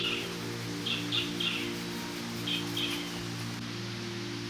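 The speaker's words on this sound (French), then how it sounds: "d'un seul coup, les oiseaux rechantent" Endemic Polynesian forest birds sing in short chirping phrases, two clusters a couple of seconds apart, moderately distant over a steady low hum and soft forest ambience.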